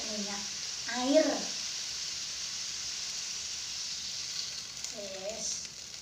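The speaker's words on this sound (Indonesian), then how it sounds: "Kita aku ya goreng tempe." Tempeh sizzles steadily in hot oil in a home kitchen, a constant broadband frying hiss running through the whole stretch, with a voice speaking briefly at the start and again near the end.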